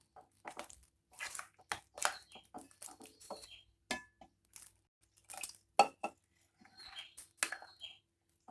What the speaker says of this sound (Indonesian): Kita aduk sampai bintilan bulat-bulat dari tepung ini rata semuanya.